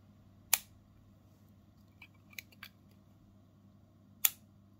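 A Diplomat Elox Matrix fountain pen's snap cap clicks on and off in a quiet room: two sharp, distinct clicks a few seconds apart, with softer small taps between them.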